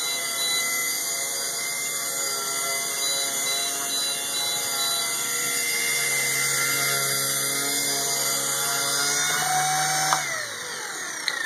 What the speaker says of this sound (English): Let's land. I'm going to do a nose-in landing.